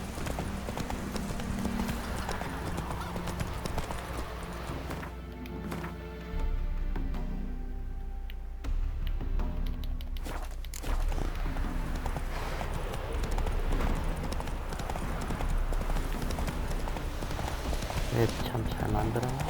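Horse hooves gallop in a rapid, steady clip-clop rhythm in The Witcher 3, loud and close, with a brief softer stretch midway, while a voice speaks over the hoofbeats.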